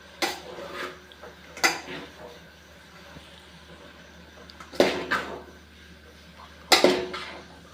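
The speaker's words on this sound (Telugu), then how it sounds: "ఇప్పుడు దీన్ని బాగా మిక్స్ చేసుకుందాం." Hakka noodles tossed with egg and sauce in a pan: four sharp metallic scrapes and clanks of a spatula against the pan, spaced a few seconds apart, over a quiet background hum.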